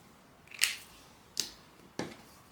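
Scissors snip three times along a traced line in a sewing pattern, each a crisp, close cut with short pauses between.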